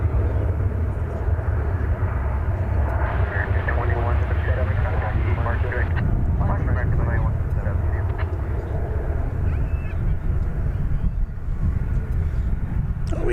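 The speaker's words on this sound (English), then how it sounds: "finally off to Salt Lake City goes the retro US Airways livery" A retro US Airways livery airliner departing for Salt Lake City, its engines giving a loud, continuous broadband roar that holds steady throughout with no speech.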